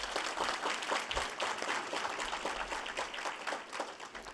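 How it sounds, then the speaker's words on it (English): Sustained applause from the audience at a university spring faculty and staff assembly, a dense steady patter of many hands clapping across the whole stretch, fairly even in level. "Please, a round of applause."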